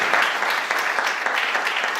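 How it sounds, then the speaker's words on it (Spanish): A church congregation claps for Jesus Christ during a Sunday service, with dense, steady, loud applause filling the whole moment. "Den un aplauso a Jesucristo, porque Dios es quien guía a su iglesia"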